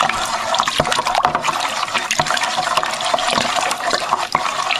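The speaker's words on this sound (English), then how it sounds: "I'm stirring in the bentonite just like I did with the other kit" Bentonite is stirred into warm water in a wine fermenter, giving a continuous sloshing, swishing churn of liquid with small splashes and knocks, close and steady throughout.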